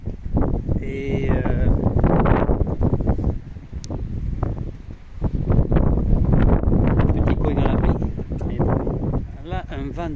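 Strong gusts batter the microphone at a campsite in Eidfjord, Norway, roaring in heavy surges with brief lulls, while a person talks over the wind.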